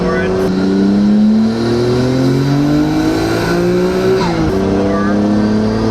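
A 4-door sedan fitted with a Nissan GT-R engine and aftermarket camshafts, revving hard under acceleration, a loud rising engine roar climbing in pitch through gear shifts.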